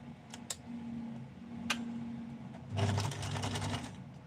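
Sewing machine stitching a zigzag pattern: a few soft ticks and clicks, then a close, rapid mechanical chatter of the needle running for over a second.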